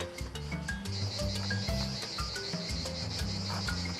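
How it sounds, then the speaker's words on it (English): Cicadas drone in a constant high, buzzing chorus in the wild at a campsite, with a low hum and faint clicks underneath, steady and loud throughout. "We are surrounded by cicada."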